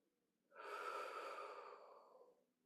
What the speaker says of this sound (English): and exhale with your mouth